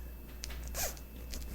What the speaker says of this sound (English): And this is a good zipper